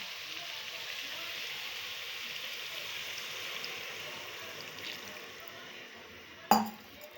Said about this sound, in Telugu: ఇప్పుడు ఇందులోకి చింతపండు పులుసు యాడ్ చేస్తున్నాను